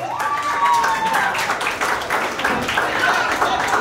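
Applause for a graduating student at a mortarboard-crossing ceremony for the class of 2022, a steady wash of clapping running throughout, loud and close, with voices talking over it.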